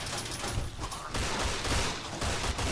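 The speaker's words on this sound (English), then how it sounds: "I'm gonna take the next gun, the jury-rigged SMG after this." Rapid bursts of jury-rigged SMG fire in Fallout: New Vegas, several dense volleys packed close together over a noisy, busy game soundscape.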